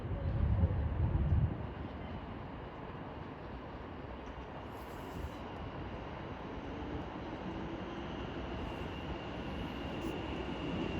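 A Thameslink Class 700 train sits at Peterborough station on the East Coast Main Line, giving a continuous low rumble and hum that swells briefly at the start, with faint higher tones drifting in later.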